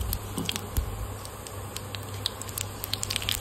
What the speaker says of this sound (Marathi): त्याच्यामध्ये आता जिरे टाकून घेऊया।